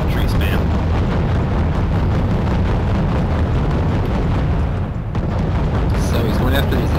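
Mortar strikes landing in a real-time strategy game battle, a dense continuous rumble of overlapping explosions that stays loud throughout, with no clear gaps between blasts.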